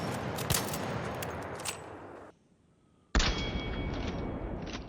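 Shots from a gun fitted with a muzzle brake in the video game ARC Raiders, a dense stretch of gunfire with sharp reports, broken by a brief near-silent pause before firing resumes.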